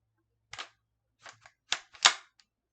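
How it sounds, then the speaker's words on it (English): The pump action of an Akkar Churchill shotgun is worked by hand, producing a handful of sharp, close metallic clacks and clicks spaced irregularly across a couple of seconds in otherwise quiet surroundings. "all you have to do is just work the pump"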